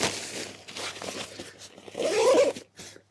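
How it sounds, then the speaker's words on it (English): The zipper on a Minaal Daily 3.0 21L backpack is pulled up close in a few quick scratchy strokes, ending in a longer, louder zip. There is no talking. "And the zips are very smooth and comfortable to use"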